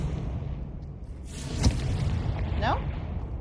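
A Confringo fire spell explosion in the video game Hogwarts Legacy lands as a single short boom and pop over a rumbling game soundscape, with a voice speaking nearby.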